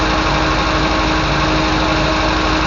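MGB car engine idling with the choke on in cold weather, parked on gravel, a loud, steady, even drone with a constant buzzing vibration and no talk.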